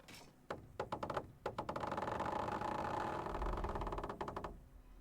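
A trebuchet in the medieval game Kingdom Come Deliverance loosing a shot at castle walls: a burst of sharp wooden knocks and creaks, then a sustained loud rumbling roar with a deep low thump near the end and more clattering.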